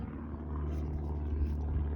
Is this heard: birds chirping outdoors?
no